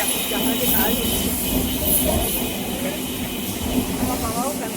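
A local train running near Majharhat station in Kolkata, with a steady broadband rumble and hiss of the moving carriage throughout, while a voice talks over it.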